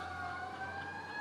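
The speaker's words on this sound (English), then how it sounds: "about 5 fire trucks went by" A fire truck siren during a busy night on Bay Street, a faint, steady wail heard from a distance for a brief moment.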